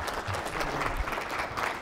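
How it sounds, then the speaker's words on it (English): Audience applause at a college presidential candidate forum, a steady wash of many hands clapping close by, sustained and fairly loud throughout with a faint murmur of voices underneath. "so why don't you give him a round of applause"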